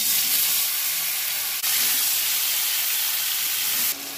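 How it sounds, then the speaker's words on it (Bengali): Salt-and-turmeric-coated paneer pieces fry in hot oil in a kadai, giving a loud, steady, close sizzle with a brief dip partway and a drop near the end, no talk. "আমি এবার পনিরগুলো ভেজে নেব।"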